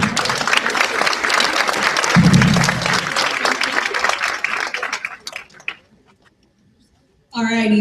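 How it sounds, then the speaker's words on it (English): A conference audience at closing remarks applauds loudly, sustained clapping that fades out into silence before a voice resumes speaking. "Let's give her another round of applause."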